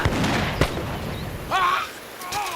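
Gunfire in a period naval drama scene erupts as several sharp, loud shots in quick succession, each a short burst, with shouting voices between them.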